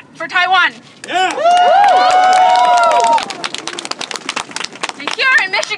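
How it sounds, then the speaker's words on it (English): Rally audience of overseas Taiwanese in Michigan clapping for Taiwan, with cheering and shouting voices on top and a dense patter of hands that thins into scattered claps before swelling again. "Let us all clap for Taiwan."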